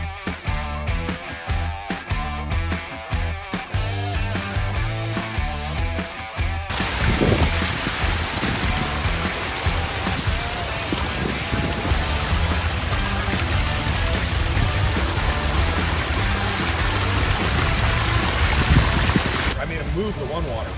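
A backyard garden pond waterfall pours in a steady, loud, close rush of water, starting after a stretch of music and running unbroken to near the end.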